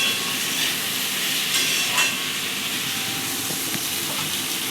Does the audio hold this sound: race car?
no